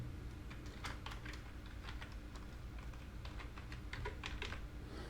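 Soft, quick taps on a computer keyboard, typed in irregular clusters at low volume over a steady background hum.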